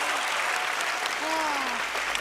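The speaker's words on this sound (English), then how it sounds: "Well, applause." Applause from a studio audience at a magic show taping, a dense wash of clapping heard alone with a brief tonal sweep partway through.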